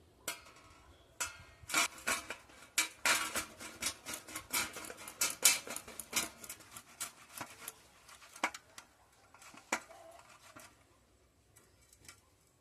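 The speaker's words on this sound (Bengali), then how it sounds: "টমেটোগুলোকে আমি দু ভাগ করে নিয়েছি, ছিদ্রওয়ালা গ্রেটার দিয়ে গ্রেট করে নেব।" Halved tomatoes are rubbed across a holed grater, giving close, rhythmic rasping scrapes in quick uneven strokes that thin out and grow sparser toward the end.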